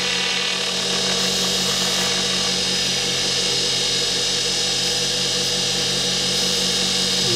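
Wood lathe running steadily on a turned wooden piece while crystalline wax is applied, a continuous close whirring hum with a faint rubbing hiss, no voices.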